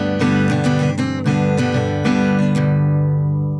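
Guitar plays the part leading into the chorus of a song, quick picked notes in a bright, ringing run over sustained tones, ending on a held chord that fades, close and alone.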